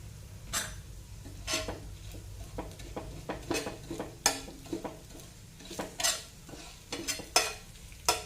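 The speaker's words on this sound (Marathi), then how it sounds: "मंद आचेवर आपल्याला हे परतून घ्यायचे म्हणजे आपले मसाले जळणार नाही" Spices with asafoetida sauté gently in a pan over a low flame for kachori, a soft sizzle under repeated close scrapes and taps of a spoon stirring against the metal.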